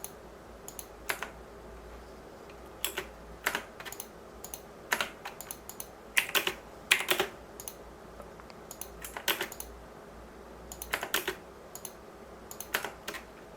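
Computer keyboard typing and mouse clicking while drafting in ZWCAD software: close, crisp clusters of keystrokes and clicks in irregular bursts, heard alone without talk.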